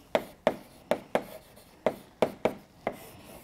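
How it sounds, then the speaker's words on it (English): Chalk or marker taps and strokes on a board during a maths lecture, about eight sharp, close knocks in an uneven rhythm with no talk over them. "I'll just write it down here."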